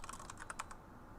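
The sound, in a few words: typing on computer keyboard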